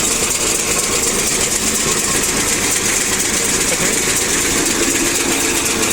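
Round baler running at maximum speed, a loud continuous mechanical clatter and engine drone that stays dense and even from start to finish, with no talk.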